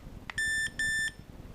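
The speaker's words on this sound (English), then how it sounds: "you will hear a beep and the light starts flashing" Two steady electronic beeps from Fatshark Dominator V3 video goggles starting to record, each about a quarter second long, sound close and clear against a quiet background.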